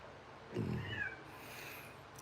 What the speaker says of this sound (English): What, Calico Kitty? My little baby girl.